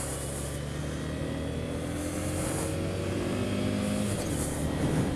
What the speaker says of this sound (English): So I'm on the W800 now.